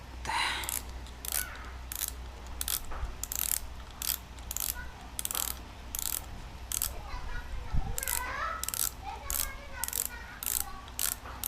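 A Shimano FX 4000 spinning reel turns steadily, its plastic clicker giving a rapid, regular ratcheting tick, close and clear, with occasional brief handling clatter.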